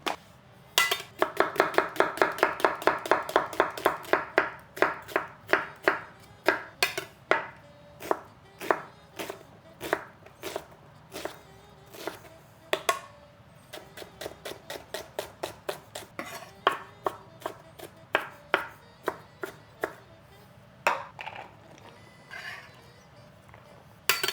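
A knife chops zucchini on a cutting board in a steady run of sharp, close knocks, fast at first and then more spaced and uneven, with no talk.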